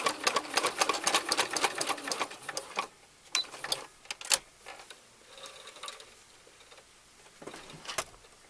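A sewing machine stitches fabric for a bunny pillow in a fast continuous whirring run that slows into intermittent short bursts and clicks, close by.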